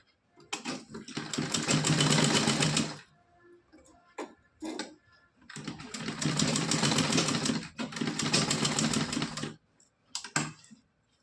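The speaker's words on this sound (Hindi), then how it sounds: "इस तरह अच्छे से हम इसको यहाँ पे डबल कर देंगे सिलाई" A sewing machine stitches a small cotton dress with gota patti trim for a Laddu Gopal idol. It runs in two long, steady bursts of rapid mechanical ticking, with a few short stop-start runs between them.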